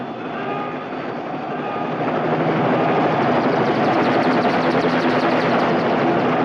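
An aircraft roars steadily on its takeoff run, a loud, dense engine rumble that swells and holds without pause.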